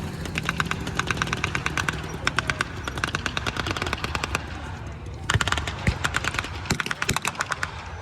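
Rapid bursts of blank machine-gun fire at a WW2 re-enactment battle, sharp cracking volleys in repeated strings spread across several seconds, fairly distant and echoing outdoors.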